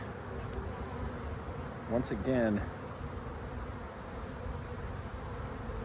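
Honeybees drone steadily and close throughout a spring hive inspection, a continuous buzz under a man's brief spoken words.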